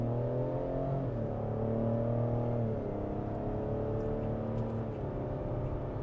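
A 2023 Ford Explorer ST engine held at half throttle while driving gives a steady, moderate drone heard from inside the cabin, with the pitch rising and falling slightly and no voices.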